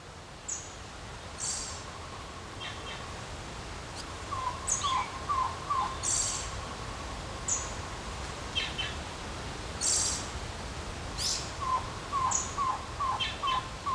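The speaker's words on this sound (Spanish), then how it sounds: "podrá descubrir entre las ramas el tocororo, el pájaro nacional de Cuba" Tocororo, Cuba's national bird, calling from tree branches in a Cuban forest: short repeated chirping phrases and sharp calls in bursts over a steady hiss of insects and outdoor ambience.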